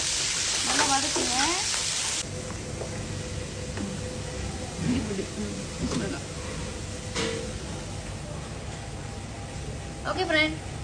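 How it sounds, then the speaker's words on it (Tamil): Chopped onion sautés with spices in a pan for chicken keema masala, a steady close sizzle and frying hiss running throughout, with someone speaking over it at times. "நல்லா வதக்குங்க."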